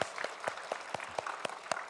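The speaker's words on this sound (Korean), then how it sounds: "우리 다 손뼉 쳐줘" A church congregation at an evening revival service claps together in a steady, even rhythm, the sharp unison claps coming about four times a second.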